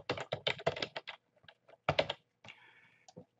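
Quick bursts of clattering keystrokes on a computer keyboard, close and fairly quiet, with a pause, another short flurry and a few final taps.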